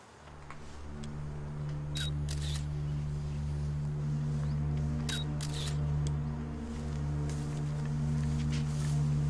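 Camera clicks and shutter-like ticks in two brief clusters over a steady low electrical hum, heard in a quiet tense scene while the camera is being handled, close and crisp.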